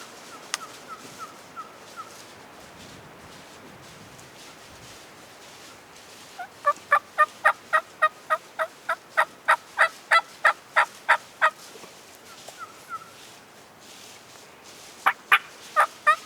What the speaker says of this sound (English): Kill that gobbler when you can, Scott.